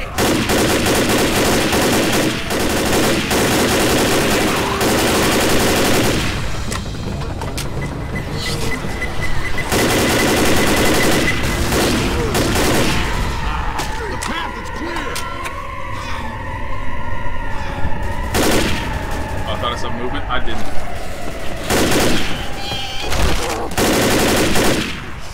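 Rapid automatic gunfire in Left 4 Dead as a player spins in a circle shooting, loud sustained bursts with short gaps, continuing almost without pause throughout.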